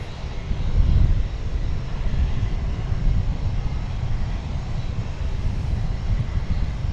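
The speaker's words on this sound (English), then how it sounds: "I believe we're looking here at American flight Takeoff 18 left, American 2767" An American Airlines Airbus A321 taking off from runway 18 left at DFW airport, a steady, loud, broad engine roar with deep rumble that holds throughout without fading.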